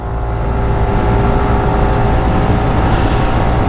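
Steady, loud engine drone of a SYM ADX 125 scooter pulling hard under acceleration on a road trip, continuous and close with wind noise and no talk.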